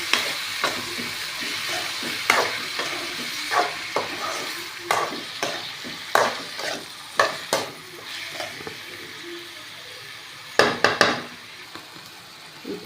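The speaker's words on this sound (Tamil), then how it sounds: "நல்லா வதக்கலாம்." Chopped tomato being sautéed in a pan, a steady sizzle under repeated close scrapes and knocks of a stirring spoon against the pan at irregular intervals.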